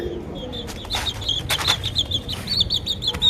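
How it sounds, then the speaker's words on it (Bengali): A backyard hen kept beside a pigeon coop makes short, repeated high calls with steady bird chatter and a low murmur underneath, fairly close and moderately loud. "এই যে এই হচ্ছে মুরগি।"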